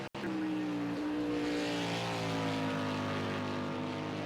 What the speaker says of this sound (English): These Mustangs sound amazing out on track.